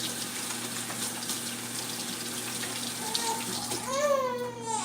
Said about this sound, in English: I'm going to wash my hands first because I don't want to get onion all over her.